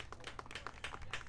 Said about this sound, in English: good round of applause by the fans as good sportsmanship as the Bedford player being helped off